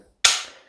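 A single sharp gunshot from an HK 416D .22LR rifle, close and crisp, with a brief fading tail and nothing else around it.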